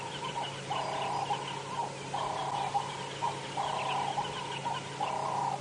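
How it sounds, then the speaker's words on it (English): Turtle doves call at dawn on a safari drive, repeated rhythmic cooing phrases at a steady pace, moderately near over a quiet bush background. "The turtle doves joining in now."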